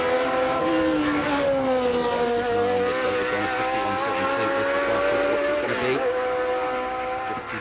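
A Williams DFV race car driven by Andy Willis at a Goodwood timed shootout, its engine note rising and shifting loudly as it passes, with a sharp dip and recovery near the end.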